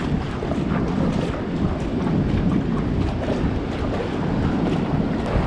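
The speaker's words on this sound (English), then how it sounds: "I wasn't joking when I said it was windy. It's bloody windy." Strong wind buffets the microphone in a constant heavy roar, with no voices, only the rumbling gusts.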